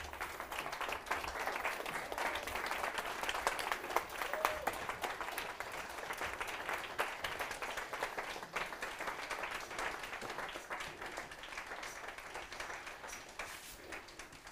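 Sustained audience applause fills a livestreamed event hall, a dense steady wash of many hands clapping at moderate distance, holding roughly even throughout with no voices breaking through.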